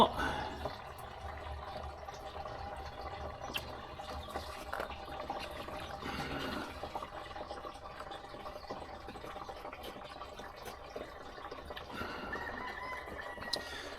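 Used engine oil from a 2019 Ram truck drains in a steady, faint trickling pour into a pan, continuous and low throughout.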